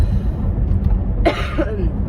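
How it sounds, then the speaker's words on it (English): A single sharp cough rises out of background murmur, near and brief. "I would love to quit coughing, because no matter what I do, I cannot quit coughing."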